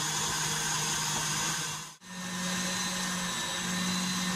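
Electric mixer beating eggs with a large amount of sugar: a steady, loud motor whir that cuts out briefly in the middle and then resumes, with no talking.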